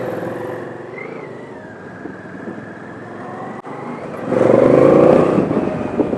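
A 1200cc V-twin motorcycle riding through London traffic behind a bus, its engine droning steadily nearby before swelling louder as it accelerates near the end, with surrounding road noise and no speech.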